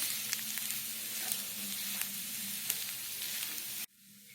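Spiced potato filling for vada pav sizzles and crackles in a hot pan as garam masala is stirred in, a steady close frying hiss with scattered pops that cuts off abruptly near the end.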